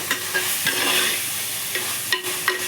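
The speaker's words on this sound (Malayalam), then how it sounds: "കറിവേപ്പില എല്ലാം കൂടെ ഇട്ട് വരണ്ട് ചുവന്ന് വരണം." Curry leaves, tomato and spices fry in a hot pan for a fish curry, giving a soft steady sizzle broken by several sharp scraping stirs of a spoon against the pan, with no talking.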